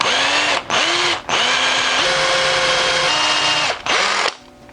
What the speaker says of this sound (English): I hate having to drill big holes on a lure I just finished carving.